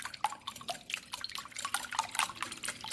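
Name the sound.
whisking eggs in a bowl for sponge cake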